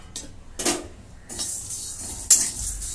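Whole spices (black pepper, star anise, bay leaves, cinnamon, cloves, mace, coriander seeds and kasuri methi) dry roasting in a pan over very low heat for chole bhature, with soft scraping, rattling and a few sharp clinks of a utensil against the pan, no talking.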